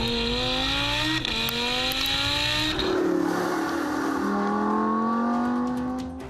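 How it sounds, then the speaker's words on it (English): An Audi R8 Spyder's naturally aspirated engine revs high with rising, tuneful harmonics, shifts gear, then climbs again in a loud, smooth unturbocharged wail. "This Audi R8 has a sound like no other."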